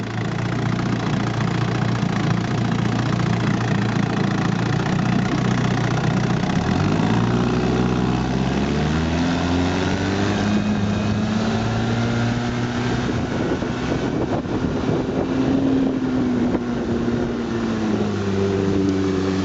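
A 1955 Johnson QD-16 10 hp outboard motor runs steadily on a boat, a loud continuous drone whose pitch sweeps upward partway through as the throttle changes, with no talking.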